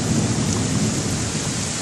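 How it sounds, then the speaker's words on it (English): Heavy rain and hail pour down in a thunderstorm with high winds, a dense, loud, continuous roar with low rumbling underneath and no voices. "as you hear the thunderstorms rolling in"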